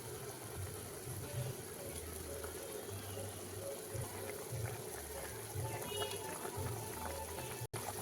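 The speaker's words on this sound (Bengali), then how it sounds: "ঝোল ফুটে উঠেছে" Curry broth for a Bengali bhola fish dish with potato and eggplant bubbling at a steady boil in a pot, a continuous soft bubbling and hiss that carries on with no break.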